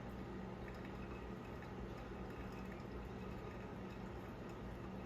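Hot water poured slowly over a coffee filter for the final pour of a manual brew, a steady continuous trickling and splashing wash that stays level throughout with no talking.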